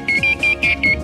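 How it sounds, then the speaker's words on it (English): Rapid high-pitched electronic beeps from a Radwin 2000 radio during antenna alignment, in short bursts, close and clear, repeating with brief gaps between groups. "Two beeps and a pause means signal quality increased."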